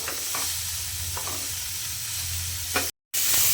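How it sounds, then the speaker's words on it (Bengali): Bitter gourd, onion and green chilli sizzling loudly in hot oil with steady hiss and scraping stir strokes, close up, broken by a brief cut to silence before the frying resumes. "উচ্ছেটা না একটুখানি নাড়িয়ে নিলাম আগে তেলের উপর"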